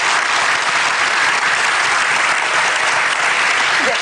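Dense, loud applause from a large studio audience on an Indonesian television talk show, a continuous wash of many hands clapping steadily for several seconds with no talking.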